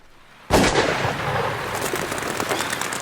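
A single loud shotgun blast while hunting birds in the rain, the sharp report followed by a long rolling echo and a rain-like hiss.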